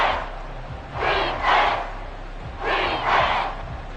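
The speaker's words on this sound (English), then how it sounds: "this crowd trying to force a false start here" A football stadium crowd roars on third and inches, trying to force a false start, in two big swelling surges of noise over a steady background din.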